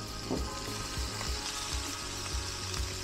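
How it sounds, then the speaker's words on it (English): Chopped onion sizzles steadily in hot, shimmering oil, a continuous close crackle with soft periodic thumps from stirring, no voices. "Drop that onion in."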